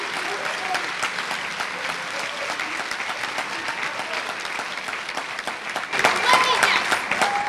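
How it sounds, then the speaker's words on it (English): Audience applause at a school Red Letter Days coronation, a steady dense wash of clapping that swells louder near the end, with voices mixed in. "Let's give a warm round of applause to the 2009 King of Red Letter Days, Taylor Trimble."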